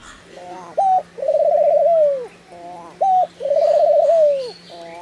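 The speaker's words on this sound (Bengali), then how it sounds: "দেশি ঘুঘু সাধারণত খুব বেশি মানুষের সংস্পর্শে আসে না খাবার দিলে আসে" A native dove at Bangladesh National Zoo in Mirpur coos close and clear, repeating a two-part call twice: a short note followed by a long, wavering, throaty coo, over a low steady hum.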